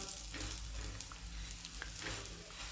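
Paratha frying in ghee on a pan, a continuous close sizzle and crackle with soft spatters throughout, faint overall and with no talking.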